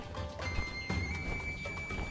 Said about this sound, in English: Be careful not to hurt that horse.